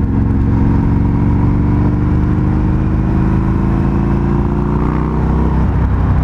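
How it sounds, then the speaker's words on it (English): A loud, steady exhaust drone from a 2019 Indian FTR 1200S motorcycle riding in third gear, holding a constant rumbling pitch throughout with a slight shift near the end. "as good as this exhaust sounds"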